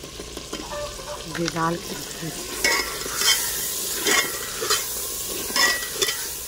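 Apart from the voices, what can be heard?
stirring and mixing ingredients together in a pan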